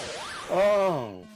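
Galaxian on the Famicom gives out a telephone-bell-like electronic tone, a sliding chirp that swells into a loud, steady harmonic buzz lasting under a second before it cuts off.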